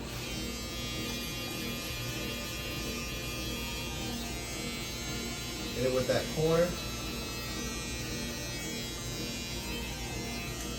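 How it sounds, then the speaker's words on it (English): A steady electric foil shaver buzz hums throughout as it trims a beard, with a brief louder burst of movement partway through and a voice speaking briefly over it. "The foil shaver."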